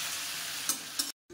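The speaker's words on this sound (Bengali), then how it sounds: "আলুটা ভেজে নিয়ে লবণ হলুদ দিয়ে তারপরে আসছি।" Potatoes fry in a pan for a fish curry, giving a steady broadband sizzle with a couple of brief stirring scrapes before it cuts out abruptly near the end.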